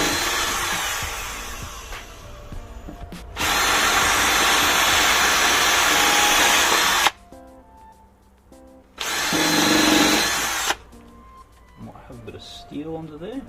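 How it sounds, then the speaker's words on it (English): A power drill drives screws into deck boards on a budget outdoor deck build. Two long, loud bursts of drilling are separated by quieter gaps with clattering handling sounds, and people can be heard talking between them. "what we want to do next is just drill these two bits in"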